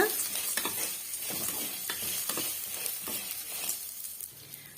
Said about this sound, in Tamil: இப்ப இது எல்லாம் சேர்த்து நல்லா வந்து வதக்கி விட்டுடலாம்